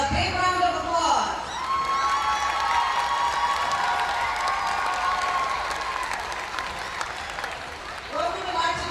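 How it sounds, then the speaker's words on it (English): A crowd at a Final Four Fan Fest reading-competition announcement bursts into applause mixed with cheers and children's shouts, loud and sustained, with voices calling out over the clapping. "You guys give yourselves a big round of applause."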